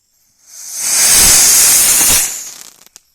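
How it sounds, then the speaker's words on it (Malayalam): A spinning wheel firework hisses loudly and steadily for about two seconds, a bright rushing spray that crackles briefly as it sputters out. "ഇതൊരു ചക്രത്തെ ഉള്ള ഒരു പൂവാണ്"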